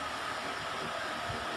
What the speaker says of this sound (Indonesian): Suara okey, cuma bunyi bising macam kipas